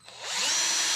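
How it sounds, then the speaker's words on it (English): A power drill spinning up to a steady, high whine as it bores a pilot hole into a wood-turned bird feeder, close and alone. "I'm going to drill up through the foot"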